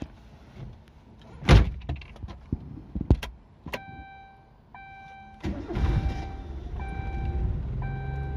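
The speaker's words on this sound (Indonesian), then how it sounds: "Langsung aja kita cek mesinnya." A used Timor car with about 180,000 km: a car door thuds, keys jangle, then the engine cranks and catches and settles into a smooth idle, with intermittent warning chimes during startup.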